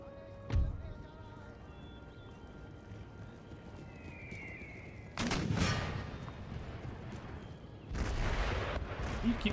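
Heavy 24-pounder foot artillery fires in Empire: Total War, with a sharp early report and then two louder rumbling volleys at mid-clip and near the end over constant battle noise. There are hints of horses in the background.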